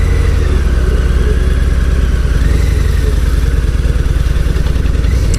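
Harley-Davidson Heritage 114 motorcycle engine under way, a loud, steady low rumble with a throbbing pulse, close and continuous with no talk.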